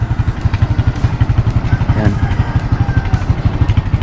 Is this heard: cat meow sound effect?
no